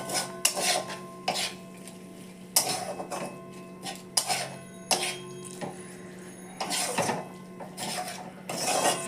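Metal spoon scraping and clinking against a pan while chicken keema is stirred with ground spices and a splash of water over low to medium heat, with repeated close knocks and scrapes in an irregular rhythm.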